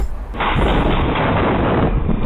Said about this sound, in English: Shots fired in the middle of the day.